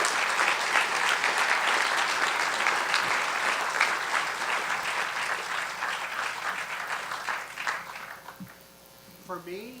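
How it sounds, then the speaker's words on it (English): Audience at a TriMet FX2-Division grand opening ceremony breaks into loud, sustained applause that gradually thins and fades, with a voice speaking faintly near the end. "Let's give them a big round of applause."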